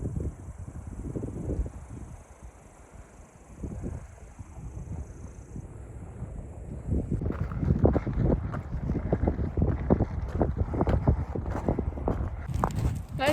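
Wind blowing across Sonora Pass on the Pacific Crest Trail, a steady rushing roar with gusts and buffeting against the microphone that grows louder and denser in the second half, with no talk.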